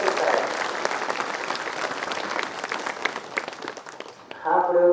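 An audience applauds at an anniversary event for the eye donation movement. The clapping is loud and sustained, fades briefly, then a voice cuts in at the very end.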